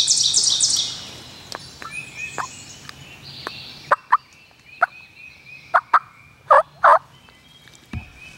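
A wild turkey gobbles repeatedly during a spring gobbler hunt in the woods, loud sharp bursts coming in quick succession over a quiet outdoor background with faint bird chirps.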